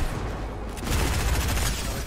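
Gunfire in the Fortnite Chapter 2 tournament match, a dense burst of shots layered with booms that swells after a short lull, loud and continuous across the whole span.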